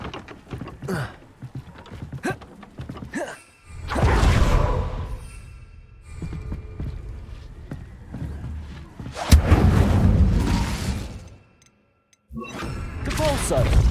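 Whooshing bursts of the Incendio fire spell in Hogwarts Legacy, several loud roaring blasts separated by quieter gaps, with heavy thumps and rumble beneath.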